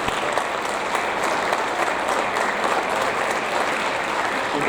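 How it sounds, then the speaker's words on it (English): Audience at a seventh-grade awards ceremony giving a round of applause, dense and continuous clapping from many hands that stays loud and even throughout. "If we could give them a round of applause."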